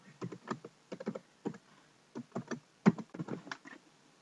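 Keys on a computer keyboard are tapped in quick, uneven bursts while a password is entered, close and clear against a quiet room.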